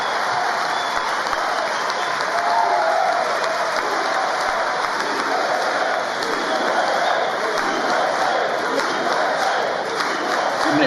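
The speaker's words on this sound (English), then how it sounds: "A lot of clapping." Members of Congress applaud steadily during Trump's address to Congress at the Capitol, a dense, sustained wash of clapping with scattered crowd voices that stays loud and even throughout.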